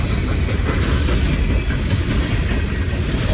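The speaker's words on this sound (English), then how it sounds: "Trains." Norfolk Southern 757 coal train passing in Ridgeway, Virginia, a loud close steady rumble of rolling railcars with rhythmic wheel clatter, sustained without a break and with no talk.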